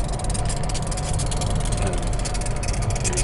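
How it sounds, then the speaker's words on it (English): Diesel locomotives working as a pair with a slug unit at CN Symington rail yard give off a steady, loud engine rumble and drone that runs unbroken from start to finish. "There you see an engine with a slug or a slave unit."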